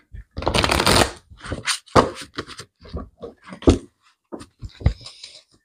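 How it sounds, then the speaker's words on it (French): A deck of fairy tarot cards is shuffled by hand in quick, crisp riffling bursts, close and fairly loud, with brief pauses between the shuffles. "on va regarder avec le tarot des fées"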